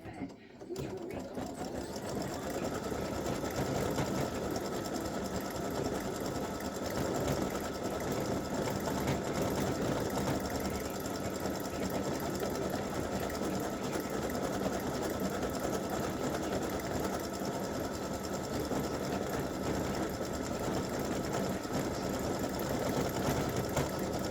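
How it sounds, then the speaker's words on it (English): An embroidery sewing machine stitches an appliqué bobble on a side-seam champagne glasses design, a steady close mechanical whir that runs evenly throughout. "it's going to stitch the little bobble on this side"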